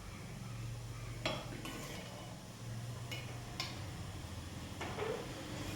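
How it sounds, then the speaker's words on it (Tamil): Spoon stirring rice through a pan while making coconut variety rice, soft scraping and a few light clinks of utensil on metal over a low steady background hum. "இது கூட நாம் சாப்பாடு சேர்த்து கிளறிடலாம்"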